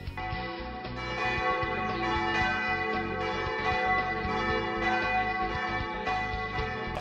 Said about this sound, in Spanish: acudir a la llamada de las campanas